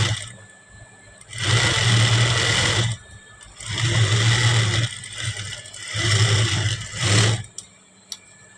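A sewing machine stitches a blouse sleeve, running in four close, loud whirring bursts of a second or two each, with short quiet pauses between them.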